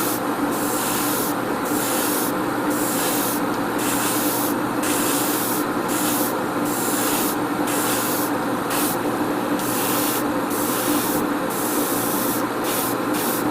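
A continuous hiss of spray paint from an airbrush or can onto a Gundam model kit, close and steady, with a faint rhythmic pulsing throughout and no talking.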